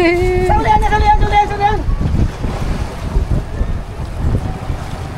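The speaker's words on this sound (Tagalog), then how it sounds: "Nag-aandar ang makina." A boat engine rumbles steadily under strong wind and water noise, with a few high tonal notes at the start and voices talking over it.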